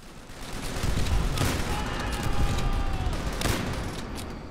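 Continuous battlefield gunfire in Call of Duty: World at War, a dense fusillade of shots with a couple of sharper bursts around the middle and end, steady and loud throughout with no talk.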